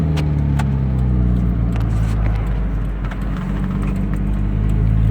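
Engine of a Mazda Miata MX5, a 1.8 NA or NB racer, blips and falls as it downshifts heel and toe through the gears, loud and close with sharp transient clicks between revs.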